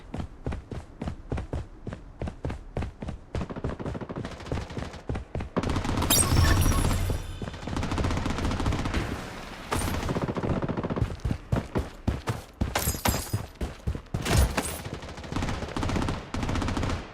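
Video game gunfire, repeated rapid shots in quick rhythmic volleys with a few denser, louder bursts in the middle and near the end, fairly clear and continuous.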